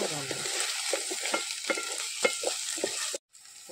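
Onions and tomatoes frying for an oyster curry, with a steady sizzle in the pan broken by repeated scraping stirs at an irregular rhythm, close and fairly loud, ending in a brief drop-out.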